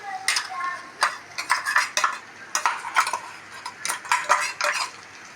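A metal spoon scrapes and clinks against a pan in quick, irregular strokes as chicken and raw banana curry with ground roasted coconut is stirred, close and clear over a quiet background.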